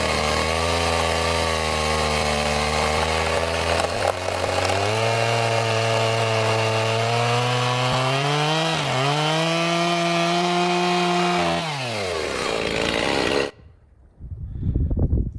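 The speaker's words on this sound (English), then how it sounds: "and then use the chainsaw to cut them all flush." A chainsaw cuts flush through three wooden floor beams at an off-grid cabin build, running loud and steady with a droning, shifting pitch as it bites, then winding down and stopping near the end.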